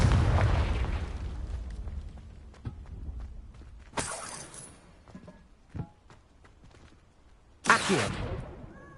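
Confringo blasting spells in Hogwarts Legacy set off several sharp explosive bursts: a rumbling opening, then crackling blasts at about four and near eight seconds, with smaller pops between, all fairly quiet overall.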